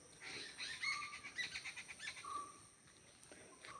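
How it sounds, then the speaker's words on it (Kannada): Birds chirping in a farm garden on a breezy day, several short bright calls and tweets scattered through the clip at moderate distance, with no talk. "ಪಕ್ಕಿಲಿನ ಚಿಲಿಪಿಲಿಕೆ ಏನೊಂದುಂಡ"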